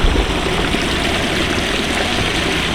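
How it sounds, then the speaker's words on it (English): A water stream flows steadily and loudly close by, a dense continuous rushing wash with no pauses and no voices. "So I hope you can hear the water."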